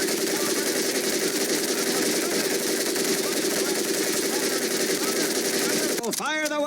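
An M1919A4 machine gun fires in the Medal of Honor: Pacific Assault video game, a dense, continuous, loud burst of rapid shots that runs unbroken for several seconds before a brief, sharp electronic sweep near the end.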